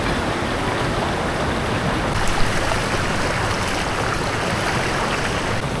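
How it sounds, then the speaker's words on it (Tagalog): Strong churning water at a waterfall spot, a dense steady roar of rushing waves filling the whole stretch, loud and close with no voices. "Ang lakas ng alon."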